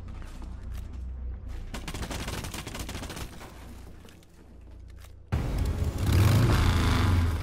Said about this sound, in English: I trapped her by shooting at the window.